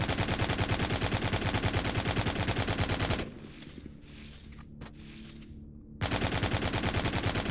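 Rapid automatic gunfire from Walking Zombie 2 rattles in dense, loud bursts, breaks off into a quieter lull with a few scattered shots, then resumes at full intensity.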